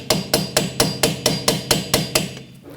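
A hammer strikes the rusted rear hub of a Hyundai Elantra in a steady run of ten loud, evenly spaced metallic blows, close up with no talking.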